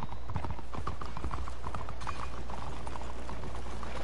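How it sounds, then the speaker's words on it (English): Horse hooves clip-clop steadily on a town street in Red Dead Redemption 2, a regular rhythmic beat of hoof strikes held close and clear against low background ambience, with no talking. "Péssimo de andar de cavalo."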